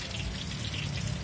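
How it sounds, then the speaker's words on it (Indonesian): Hot cooking oil crackles and spatters continuously as fish and chicken fry at an outdoor food stall, a dense close sizzle with rapid popping throughout. "Cipratan apa nih? Minyak panas."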